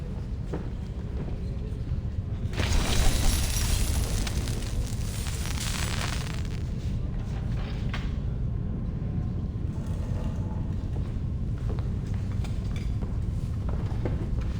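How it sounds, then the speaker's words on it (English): Fireworks show in the video game Reverse: 1999, a dense, continuous roar of bursts and crackling booms, loudest near the start and sustained steadily throughout without talk. "See, I can even put on my fireworks show again."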